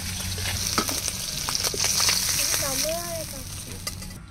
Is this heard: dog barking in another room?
no